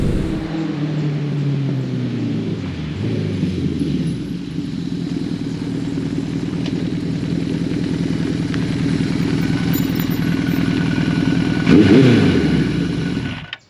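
A Kawasaki Eliminator 900 and a Suzuki GS1100L ride together, their engines droning and revving steadily up close, with gear changes and rising and falling tone throughout and a louder surge near the end.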